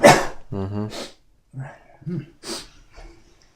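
A family dog barks and whimpers in a few short bursts near a home beside a busy street, close and loud with pauses between the sounds and no speech.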